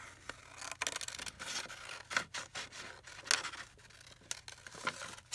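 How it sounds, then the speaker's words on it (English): Scissors snip and rustle through coffee-dyed paper while cutting around a circle for a junk journal page, giving a series of quiet, irregular close cuts. "fussy cut, but not super fussy, around the outside of this circle"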